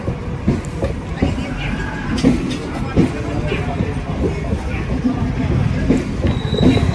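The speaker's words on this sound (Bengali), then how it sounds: "কই ট্রেন যাচ্ছে এখন" A train passes a rail crossing gate in rainy weather, a steady low rumble with clattering wheel knocks and faint squeals, close by, with some talk in the background.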